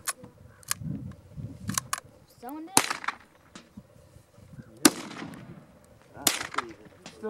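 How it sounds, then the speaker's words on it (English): Glock 9mm pistol fired outdoors in the Southern California high desert: a few sharp, loud reports spaced seconds apart, with voices talking and rustling between shots. "shooting the Glock 9mm"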